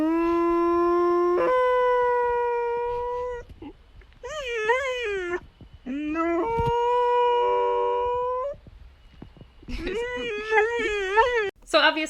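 Remy, a dog, howls in long, sustained, melodic tones that rise and waver in pitch, with several separate phrases broken by short pauses and occasional whimpering.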